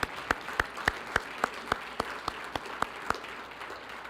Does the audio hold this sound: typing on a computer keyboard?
no